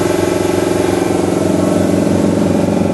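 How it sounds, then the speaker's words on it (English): An Emco 325 II lathe runs its main spindle with the C drive disengaged, producing a loud, steady mechanical whine with an even pulsing hum and no talking. "I would just test the main spindle, which has not got the C drive engaged"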